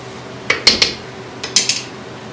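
A spoon clinks against a pot while casserole filling seasoned with paprika and crushed red pepper is mixed, in two short clusters of sharp metallic taps.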